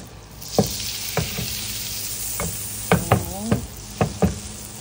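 Butter melts in a hot pan that held spare ribs, a soft steady sizzle running underneath while sharp utensil knocks and taps against the pan land several times, close up.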